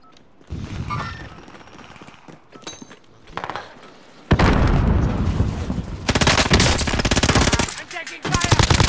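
Gunfire in a video game: after a quiet opening with scattered shots, loud close automatic bursts erupt and keep rattling in long sustained volleys, broken by short pauses, with faint voices underneath.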